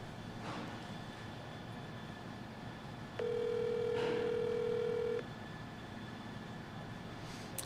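A single steady ringback tone comes over a phone's speakerphone, lasting about two seconds and set against quiet room noise before and after.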